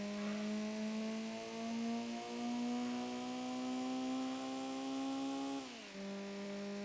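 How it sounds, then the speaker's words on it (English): A race car engine in Gran Turismo 2 holds a steady, buzzing high-revving drone for several seconds, then drops abruptly in pitch as it winds down slowly, loud and alone with no talk. "The engine can't rev down fast enough."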